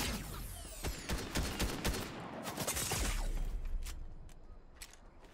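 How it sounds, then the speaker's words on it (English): Rapid gunfire from the Fortnite video game, a close and fast string of cracking shots that thins out into scattered single pops toward the end. Nobody speaks. "I'm shooting this guy."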